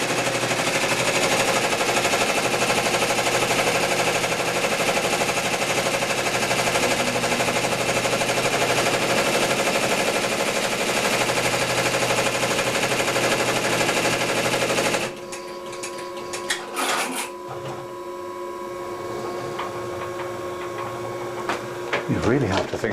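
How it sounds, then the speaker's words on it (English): An embroidery machine stitches a positioning line on a waistcoat, a loud steady mechanical whirr for most of the stretch, then softer, uneven stitching clatter with sharper bursts toward the end. "it's now just going to stitch a line for us to position the top shading for the wing and the bottom shading."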